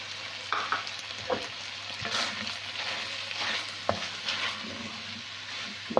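Chopped coriander and green chilli sizzle steadily in a pan, a constant moderate hiss broken by occasional stirring clicks and scrapes, with no voices.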